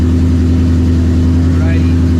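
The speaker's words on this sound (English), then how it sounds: "Let's get a cold start." A car engine running steadily just after a cold start, a loud constant droning hum with a low tonal rumble and no clear revs.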